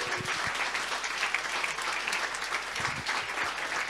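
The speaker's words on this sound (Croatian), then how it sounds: "tako da molim vas jedan ogroman aplauz" A packed audience at a stand-up comedy talent show final breaks into loud, continuous applause, a dense and even roar of clapping with no pauses across the whole stretch.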